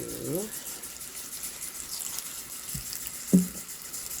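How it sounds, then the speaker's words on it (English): Hot tap water runs into a kitchen sink to soak collard greens, a steady close hiss of flowing water throughout, with a few brief low vocal sounds near the start and end. "We're going to need some hot water for that."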